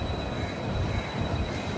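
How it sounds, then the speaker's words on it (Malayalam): An express train pulls out of Mangaluru Junction, a steady low rumble with a constant hum throughout and no voices. "മംഗലാപുരം ജംഗ്ഷനിൽ നിന്ന് കറക്റ്റ് 1 മണിക്ക് തന്നെ ഇതാ നമ്മുടെ ട്രെയിൻ എടുത്തു."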